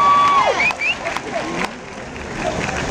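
Audience at a live concert clapping and cheering in a crowded hall, a steady wash of applause with scattered whistles and voices rising through it.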